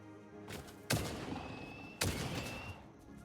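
Gunshots in the factory-building game Satisfactory crack out twice, about a second apart, each a sharp loud report trailing into a ringing decay.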